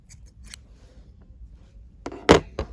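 Scissors snip through crochet yarn at the end of a small crochet flower, two or three quick close cuts near the end after a quiet stretch.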